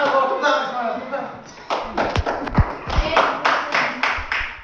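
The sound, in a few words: classroom students clapping hands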